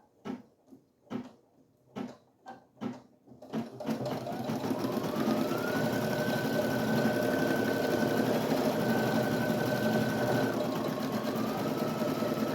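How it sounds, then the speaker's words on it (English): An embroidery machine stitches a single-color design onto a notebook pencil pouch, starting with a few separate clunks before settling into a steady, loud, continuous mechanical hum with a rapid stitching rhythm. "Press start and start embroidering."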